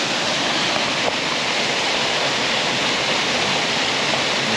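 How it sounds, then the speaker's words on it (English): A waterfall in a deep, steep-sided ravine in the Cheviot Hills of Northumberland roars with a constant, dense rush of water that stays loud and even throughout, with no voices. "As you can tell by the sound in the background, we've found one of the waterfalls."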